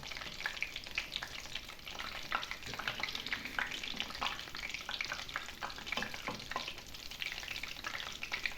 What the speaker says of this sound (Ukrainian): Отак ми і смажимо.